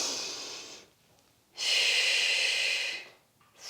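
Two long, airy exhales during a floor exercise session, each lasting a second or more, separated by a quiet pause, close and fairly soft, with no talking.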